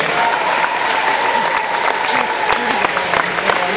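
Elementary students in a school assembly applaud third graders at a test score celebration, a steady, dense clapping from a large group that keeps going throughout.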